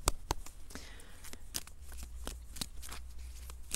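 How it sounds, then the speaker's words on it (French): A deck of cards is shuffled and drawn for a card reading, with quick soft riffling and sharp flicks at an irregular rhythm, faint and close with no talking. "Et je vais vous tirer donc une petite carte."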